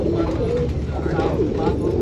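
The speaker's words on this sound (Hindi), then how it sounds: "देखो इनका कबूतर" Domestic racing pigeons coo steadily in a rooftop loft at Nashik Road, Maharashtra, soft repeated calls layered over constant background murmur and nearby voices talking.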